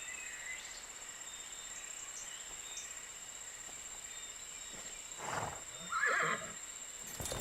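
Horse in a riding video game gives a short neigh near the end, following a quiet stretch with a steady electronic hum and faint hoof sounds.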